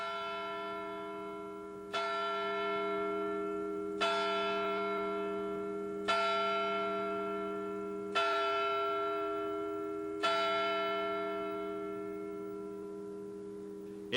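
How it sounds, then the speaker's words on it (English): A large bell in the clock atop the portico of the Alabama State Capitol, installed in 1852, tolls five slow, evenly spaced strokes about two seconds apart, each ringing on and overlapping the last, clear and loud over a steady hum. "The clock and bell atop the portico were installed in 1852"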